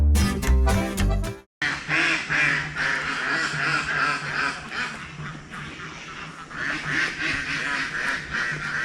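A flock of ducks quacking loudly and repeatedly nearby in a park, a busy overlapping chorus, after a brief burst of music at the start.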